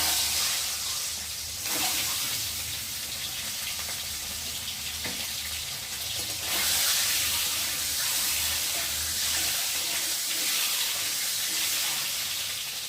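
Eggs fry one by one in hot oil in a pan over a lowered gas flame, giving a steady, fairly quiet sizzle and hiss throughout.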